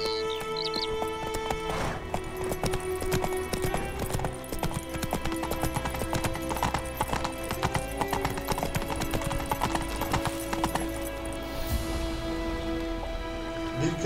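Horse hooves gallop in The Witcher 3 video game, a rapid steady clip-clop rhythm throughout, with game music and ambient sound layered underneath.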